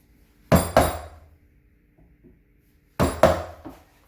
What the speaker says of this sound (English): we're going to come in here with our gouge and our mallet, and we're going to mark the rim